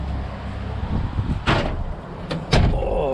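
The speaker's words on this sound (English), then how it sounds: "Oh, that was my elbow on the greenhouse door." An elbow knocks against a greenhouse door, giving a sharp bump followed by two more quick rattling knocks over a steady background hum, close and fairly loud, with no talk.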